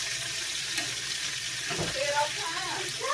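Chicken frying in a 10-inch iron skillet, Southern style, a steady close hiss and crackle of hot oil that runs without a break, with a few faint clinks over it.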